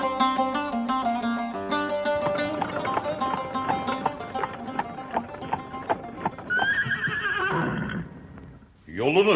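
A horse neighs and whinnies loudly over a busy orchestral music bed in a Turkish radio drama, with clip-clop hoofbeats woven in and a second sharp whinny near the end.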